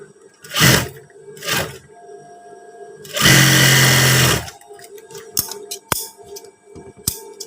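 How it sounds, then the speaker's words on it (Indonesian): A sewing machine stitches a patch pocket onto a pair of trousers, running in one loud sustained burst of about a second between softer handling knocks and rustles. "Kita jahit biasa aja seperti ini"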